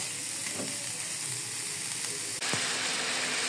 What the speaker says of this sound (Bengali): কই মাছ ভাজি করে নিচ্ছি, ভালো করে মশলা কষিয়ে নিয়েছি, তারপরে মাথাগুলো ভাজি করছি।